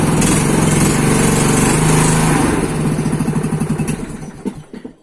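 A Stihl FS 90 brushcutter engine runs loud and close at a high buzzing rev, then drops into a chugging, pulsing idle that fades toward the end, with no talking.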